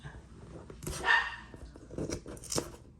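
Several dogs bark in short, uneven bursts at a moderate distance, with a louder cluster partway through and scattered yips between.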